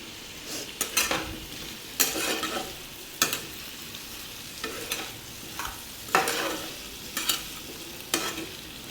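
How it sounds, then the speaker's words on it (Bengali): Vegetables salted and stir-fried in a pan, with repeated spatula scrapes and stirring clatters recurring every second or so over a steady low sizzle, close and fairly loud, with no voices. "দিয়ে বন্ধু সবজিটা কিছুক্ষণ আমরা ভাজবো।"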